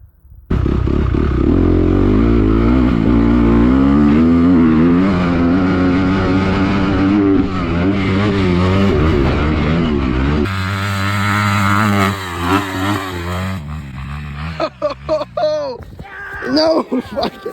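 Dirt bike engine revving hard and steadily while riding through a dirt rut, loud and close, with a voice talking over it and choppy bursts and clatter near the end.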